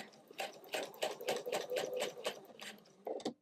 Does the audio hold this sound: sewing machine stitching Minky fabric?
yes